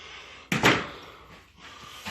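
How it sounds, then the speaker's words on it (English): An interior door swings on its hinges and bumps shut with a single soft thud, close and otherwise quiet. "Door opens"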